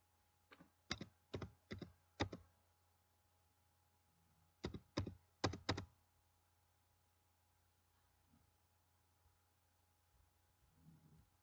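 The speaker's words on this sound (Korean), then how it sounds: "카드 번호를 본인 거를 입력을 해보고요." A card number typed on a computer keyboard: two bursts of quick key taps, about four clicks each, separated by a pause, close and crisp in a quiet room with no talking.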